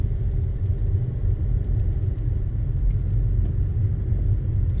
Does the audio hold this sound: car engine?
yes